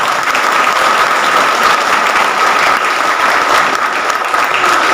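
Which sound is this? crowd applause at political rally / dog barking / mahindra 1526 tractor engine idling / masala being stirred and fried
crowd applause at political rally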